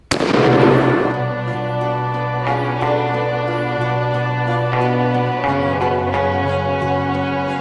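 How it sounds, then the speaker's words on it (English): A single loud blast from an 1887 shotgun fires sharply at the start, followed by a long ringing, tonal tail that holds steady and slowly fades over several seconds. "I have a shotgun. Let me prove it."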